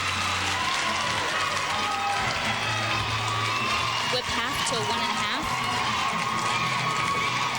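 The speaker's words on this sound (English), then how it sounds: "there's a huge contingent from the University of Georgia cheering in the middle of it" University of Georgia fans cheer and applaud steadily throughout a 2004 NCAA women's gymnastics regional championship arena, with a commentator talking over the continuous crowd noise.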